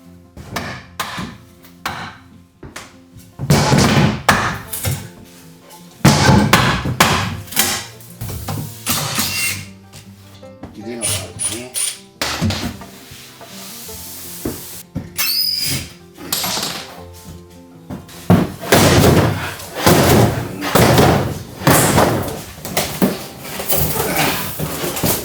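A veneer oshi-ire closet in a roughly 30-year-old Japanese house is taken apart by hand, with repeated knocks, creaks, squeaks and wooden clatter coming in irregular bursts, close up, and no talking.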